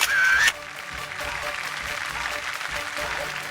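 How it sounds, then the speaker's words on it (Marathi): Audience applause on a Marathi television show, a steady wash of clapping after a brief bright tone at the start, moderately loud and continuous. "जोरदार टाळ्या."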